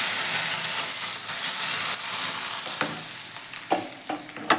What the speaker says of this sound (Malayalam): ചെറിയ ഉള്ളിയും മുളകും കടുകും ചേർത്ത വറവ് നമ്മൾക്ക് കറിയിലേക്ക് ഒന്ന് ഒഴിച്ചു കൊടുക്കാം